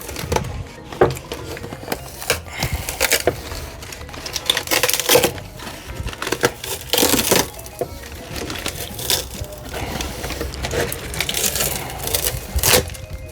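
Resin-infused carbon fibre part being pried off its mould, a run of sharp irregular cracks, snaps and crunchy pops, close and loud, arriving in uneven bursts with brief pauses between.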